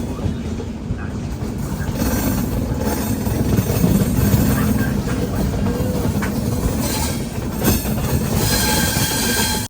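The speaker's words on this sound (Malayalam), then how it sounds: "നാലാം നമ്പർ പ്ലാറ്റ്ഫോമിലേക്കാണ് ട്രെയിൻ വരുന്നത്." A long AC Express passenger train pulls into a station platform, with a loud, continuous rumble of rolling wagons, rhythmic wheel clatter and high squealing from the wheels and brakes.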